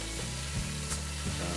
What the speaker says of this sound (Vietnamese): Sau đó chiên qua thịt để có màu vàng ươm.